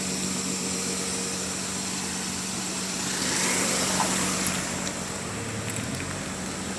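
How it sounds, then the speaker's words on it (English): A vehicle engine hums steadily nearby, swelling slightly as it passes and fading again, over constant outdoor background noise. "let's wait for the car to pass by."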